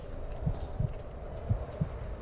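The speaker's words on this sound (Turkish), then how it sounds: "Ya kalp atışını mı duyacağız biz şimdi böyle sürekli?" A heartbeat thumps in the video game Supraland, soft low paired beats repeating steadily over a quiet ambient drone.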